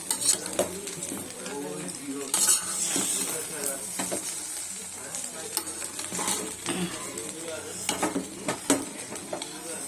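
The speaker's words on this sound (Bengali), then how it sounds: "ফ্রাইড রাইস হচ্ছে দেরাদুন রাইস দিয়ে।" Fried rice made with Dehradun rice and ghee gets stirred in a hot pan. Loud continuous sizzling mixes with repeated scraping and clinks of a utensil against the pan, close up, with faint voices in the background.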